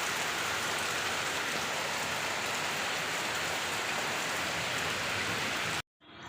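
Heavy rain pours steadily in a dense, loud wash close by, then cuts off abruptly near the end.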